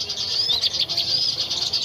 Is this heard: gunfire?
no